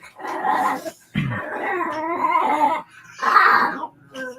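A pet dog growls and grumbles close by in a rough, vocal, almost whining series of throaty rumbles, with a short sharp snort or cough between, loud and near with brief pauses.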